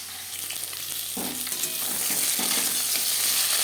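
Fish fries in an oil-filled pan for a raw-tomato fish curry. The close, crackling sizzle is punctuated by spatula scrapes and stirring, and it swells louder toward the end.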